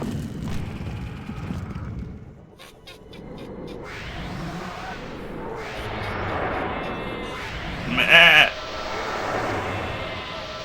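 Sheep bleating in the video game King's Bounty Crossworlds, a short loud bleat rising near the end over steady game music and ambient noise.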